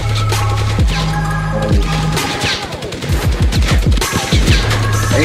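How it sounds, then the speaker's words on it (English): Loud gunfire erupts in Fortnite, with rapid overlapping shots in bursts and a steady tone underneath that cuts out between volleys, then returns near the end. "Are you using a shotgun?"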